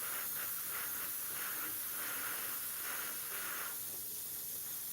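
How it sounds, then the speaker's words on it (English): An airbrush with a worn nozzle sprays in a steady, close hiss that swells and fades in short pulses as the trigger is worked. "This needs a new nozzle, this airbrush."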